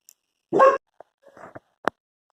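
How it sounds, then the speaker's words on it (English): A dog gives one short bark close by, then a few faint yips and whimpers follow in a quiet room. "Don't you just love dogs?"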